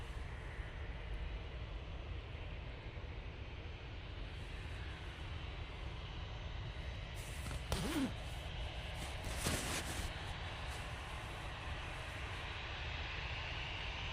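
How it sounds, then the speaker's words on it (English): EasyJet passenger jet at Manchester Airport, its engines a steady, loud broadband roar filling the whole stretch, with a brief swelling whine partway through; no talking. "next on will be the EasyJet. And I'll be going to Barcelona"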